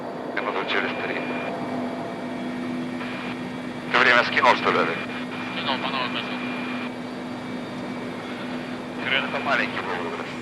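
An aircraft sets down inside the Semyachik volcano in foul weather, its engine holding a steady, moderate drone while a voice narrates over it.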